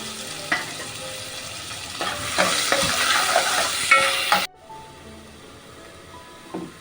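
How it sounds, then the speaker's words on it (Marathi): Finely chopped onion frying in hot oil with bay leaves as tempering for a Malvani country chicken curry, with a bright sizzle and scattered stirring clinks that cut to a quieter background after four and a half seconds. "मी बारीक चिरून कांदा घेतलाय तो पण टाकूया फोडणीसाठी आणि कांदा व्यवस्थित भाजून घ्यायचा आहे"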